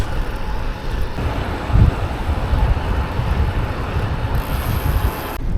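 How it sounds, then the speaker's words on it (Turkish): Loud, continuous northeasterly headwind noise blasting across the microphone while riding through mountains, with low rumbling gusts, steady for several seconds and no talking. "Acayip bir kafa rüzgarı var. Poyrazdan esiyor."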